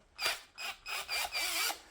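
Deko pink 20V cordless drill with its chuck held while the trigger is eased, giving several short bursts of whirring and ratcheting, close and fairly quiet.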